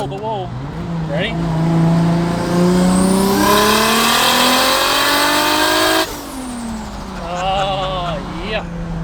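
Car with a 1JZ single turbo conversion on a first test drive: the engine climbs through a long, loud pull with rising pitch, drops off abruptly, then idles and gives a couple of short blips while people talk nearby.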